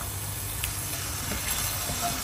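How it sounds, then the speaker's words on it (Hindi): Chicken pieces roasting in hot oil for a white karahi, giving a continuous, even sizzling hiss close up with no voices. "यहाँ पर जी मुझे 2 मिनट हुए हैं सिर्फ इसकी अच्छी तरह से भुनाई करते हुए।"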